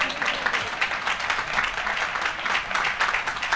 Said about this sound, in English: You can clap for my parents.